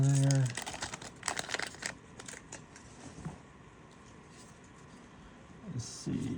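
The foil wrapper of a Magic: The Gathering Marvel's Spider-Man collector booster pack is torn open up close, giving loud crinkling and ripping that fades into softer rustling. A voice is heard at the start and again briefly near the end.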